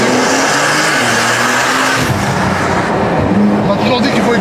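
Loud Porsche sports car engine roaring and revving up close, with a sharp rise in pitch midway as it accelerates, joined by some tire noise and voices in the background.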